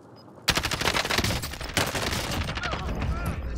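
Gunfire in a battle royale shooter game: a sudden loud stream of rapid automatic fire runs continuously for about three seconds, with a second burst layered in partway through.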